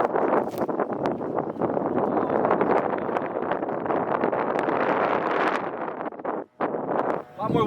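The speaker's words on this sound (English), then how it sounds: "A lot more wind than I bargained for." Gusty wind on an open disc golf course batters the microphone with loud, continuous low rumbling and rustle that drops out briefly near the end.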